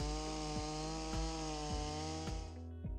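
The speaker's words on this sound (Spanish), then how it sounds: "Una motosierra, por ejemplo, rugiendo a 110 decibeles" Chainsaw roaring at a steady high pitch, a loud continuous engine drone with small rhythmic pulses and a slight dip near the end, no voices.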